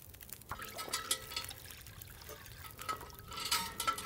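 Water being drawn in The Long Dark, a soft trickling and pouring that comes in a few short splashy bursts, fairly quiet and heard alone.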